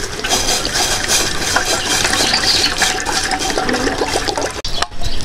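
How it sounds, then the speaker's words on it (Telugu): Half a litre of water pouring into a pot set on a miniature stove, a steady close splashing and gurgling stream running for about five seconds, with a brief clatter near the end. "దీంట్లోనే నేను 1/2 లీటర్ వాటర్ అనేది పోస్తున్నాను"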